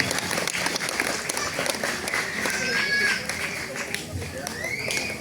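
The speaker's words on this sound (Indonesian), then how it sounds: "Tepuk tangan untuk Bapak Haji Purgiono" A neighbourhood gathering applauds Bapak Haji Purgiono, a busy crowd clapping mixed with chatter, movement and a faint whistle-like tone, continuous and fairly loud throughout.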